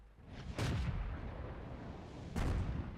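An FV304 self-propelled artillery gun fires twice in World of Tanks, two loud booming shots about two seconds apart, each with a sharp crack and a low rumbling tail.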